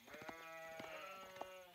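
Sheep bleat repeatedly from a large flock in an Age of Empires match, several overlapping wavering calls stacked close together over a steady game ambience, with no talk.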